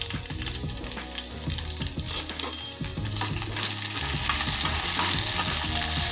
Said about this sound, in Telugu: పచ్చిమి చిన్నది వేసేసుకున్నాను చింతపండు కూడా వేసేసుకొని వేయించుకుంటాను బాగా